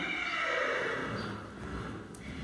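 A horse neighs during a liberty training session, a long, loud whinny rising and falling over about two seconds, close by and alone with no talk.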